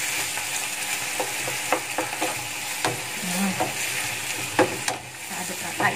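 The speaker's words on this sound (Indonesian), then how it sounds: "Nah, kita aduk." Young corn and meatballs being stirred in a frying pan with a little water, a steady sizzle broken by scraping spatula strokes and scattered clicks, close and moderately loud.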